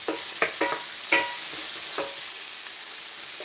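Vegetables sizzle steadily in a hot pan, a loud, continuous hiss with a few scraping or stirring clicks, with no talking.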